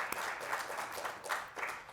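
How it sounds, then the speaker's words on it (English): An audience applauds after a film screening, continuous soft clapping from a modest crowd, fairly distant and even in level, with no talk over it. "We're going to give you a round of applause to say thank you for the film that we've just watched."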